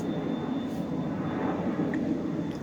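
Jet aircraft passing overhead during an outdoor gold panning session, a steady broad roar that rumbles continuously for the whole stretch, fairly distant and without talk.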